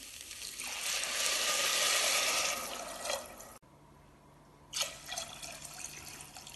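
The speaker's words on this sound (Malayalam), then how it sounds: "ഇനി ഇതിലേക്ക് വെള്ളം ചേർക്കാം" Water poured into a pot of pearl millet (bajra) for khichdi, a rushing pour for a few seconds, a pause, then a second shorter splash, fairly quiet and close.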